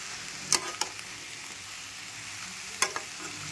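Vegetables sauté in a large kadhai for a Maharashtrian bhogi bhaji, giving a steady soft sizzle with a few sharp scraping stir strokes of the spoon against the pan.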